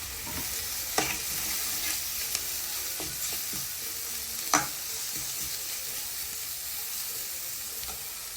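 Chilli flakes and turmeric being stirred into a potato bonda filling, with soft scraping and scattered knocks of a spoon against the pan over a low constant background.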